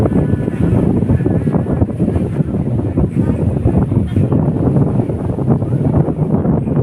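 Strong beach wind buffets the microphone in a constant low roar and rumble, loud and unbroken for the whole stretch.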